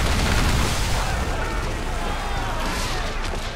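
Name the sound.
heavy shot naval cannon fire in video game Assassin's Creed 4 Black Flag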